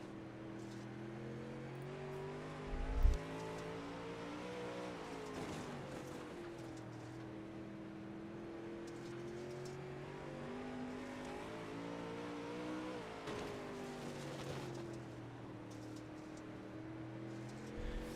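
Pro late model race car engine in a sim racing game, heard on board, droning steadily with rising and falling pitch as the throttle is eased gently through corners.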